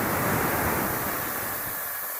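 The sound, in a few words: water poured into pan with moong dal and sago for payasam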